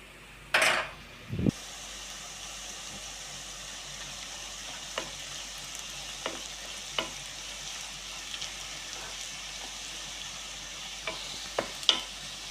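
Onions and cashews fry in a pan for a Telugu fish and kanda curry, a steady soft sizzle with a loud stir and clatter near the start and scattered light scrapes of a spatula, no talking.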